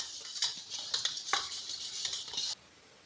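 A smooth paste is whisked with a little water into a thin batter in a bowl, making quick, busy clicks and splashy strokes close up that stop abruptly partway through.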